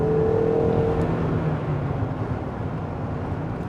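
A 2020 Jeep Gladiator's Pentastar V6 engine runs smoothly in a steady, even drone, with a faint whine riding over the continuous low rumble.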